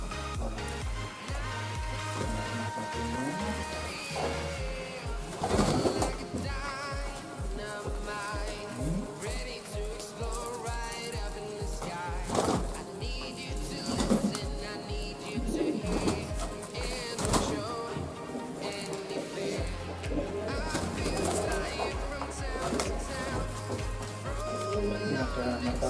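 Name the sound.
pigeons cooing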